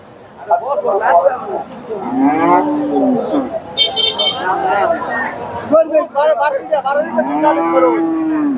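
A Friesian dairy cow at a busy cattle market gives several long, loud moos close by, while people talk over and around the calls.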